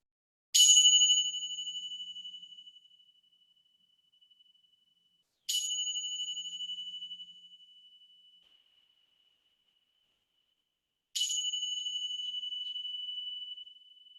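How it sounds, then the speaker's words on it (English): Three bell strikes end a yoga relaxation, each a clear ringing tone that sustains and slowly fades, spaced several seconds apart in near silence. "let the sound of the bells gently guide you back to your physical body"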